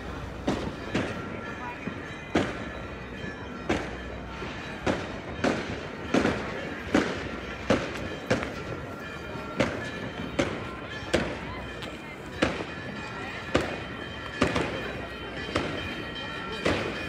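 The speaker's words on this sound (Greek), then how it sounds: "Πυροτεχνήματα και από αλλού, από πολλές πλευρές." Easter Resurrection fireworks in Corfu pop and bang repeatedly at irregular intervals from many directions, some nearer and louder, others distant, with faint background voices.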